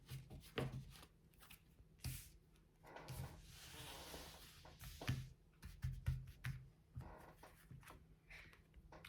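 Tarot cards shuffled and drawn during a reading, giving soft papery riffles and flicks with scattered light taps, fairly quiet and close, with no voices.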